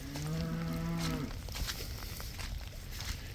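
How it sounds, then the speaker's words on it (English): Cattle mooing in a wet, muddy field: one long, loud, close low moo with harmonic bellowing, trailing into a soft rustle of outdoor noise. "The cows are mooing at me."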